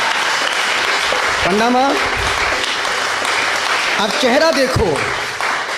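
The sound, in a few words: audience applauding at a sermon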